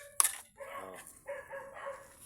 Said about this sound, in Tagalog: yung tumatahol yung mga aso